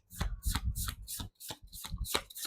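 A tarot card deck is shuffled by hand in a close, steady series of riffling, flapping bursts with brief pauses between them, and no voice is heard.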